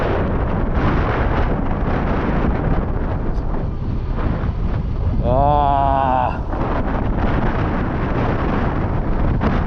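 Loud, steady wind buffeting the microphone throughout an electric bike ride, with a brief voice rising out of the roar midway.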